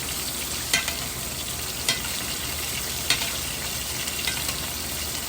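London broil steak searing in a skillet, a steady loud sizzle throughout with a few brief clicks and scrapes from stirring or nudging the pan.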